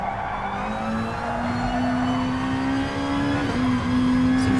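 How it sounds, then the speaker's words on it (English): A Nissan GT-R Gr.2 race car engine in GT Sport at Autopolis drones steadily under load, its pitch slowly climbing as it labours through a corner; continuous and alone. "You can feel the engine labour down under the grip of the front tyres there as well"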